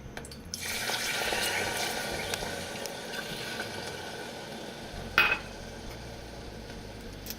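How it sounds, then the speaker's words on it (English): Almond milk pours into a pan on the stove with a soft steady liquid rush for several seconds, followed by a single brief clink of a utensil against the pan, no voices. "I'm going to go ahead and I'm going to add the almond milk."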